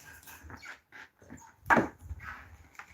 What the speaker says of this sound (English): You don't be down here barking all night, y'all.